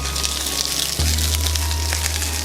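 Sliced onions for British bangers and mash sizzle steadily in a hot pan, a close, even crackle with a faint low hum beneath and no talking.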